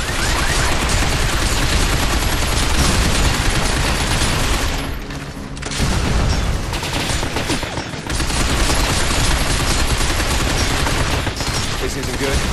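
Dense, sustained gunfire from the Binary Domain shooter game, with rapid overlapping automatic bursts that briefly thin out twice before resuming at full intensity.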